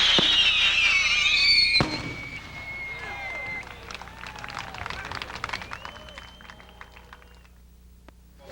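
Fireworks burst at the 1988 PGI fireworks convention, a loud crackling volley fading into scattered pops and whistling crackle at a distance.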